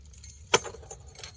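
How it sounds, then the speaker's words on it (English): Keys clatter sharply onto a hard surface in a single jangling impact, followed by a softer second rattle, against a quiet background. "Drop my keys on the ground."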